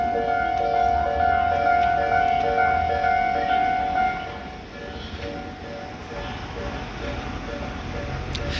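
A Tobu Tojo Line train rumbles past a closed level crossing beneath an arch bridge near Kawagoe Station, a steady broadband roar with a sustained tonal hum that eases after about four seconds.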